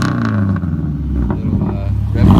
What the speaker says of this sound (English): So he's gonna rev it a little bit.